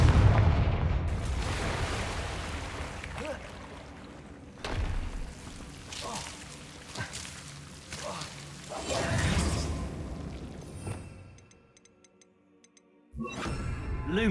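Confringo fire spell blasts in Hogwarts Legacy on PS5, several whooshing bursts and booming impacts spread across the scene, followed by a brief quiet lull and another burst at the end.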